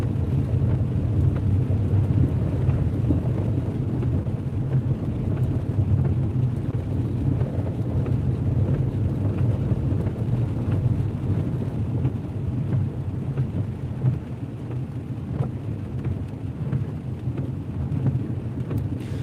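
Steady rain drums on the back window of a car parked under overhanging trees during a thunderstorm, a continuous low, dense wash of noise with no pauses, heard from inside the car.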